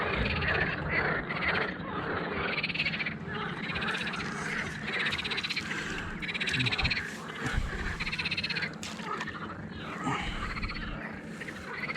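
Frogs croak steadily in a dense outdoor chorus on the Dnieper river in the evening, a continuous layered racket with occasional louder calls standing out near the listener.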